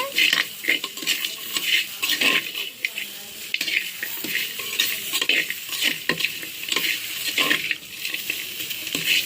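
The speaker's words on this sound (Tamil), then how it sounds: "வெட்டி வச்ச கால் இதில் போட்டு வணக்க போகிறோம்" Goat legs sautéing in a pan for goat leg curry, with steady stirring, scraping and clinking of a utensil against the pan over a continuous close sizzle, no voices.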